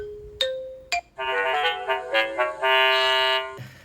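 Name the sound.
Xiaomi Smart Video Doorbell 3 indoor receiver chime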